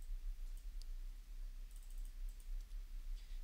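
Someone types a MAC address on a computer keyboard, producing faint, quiet clicks that are scattered and sparse, with no one talking.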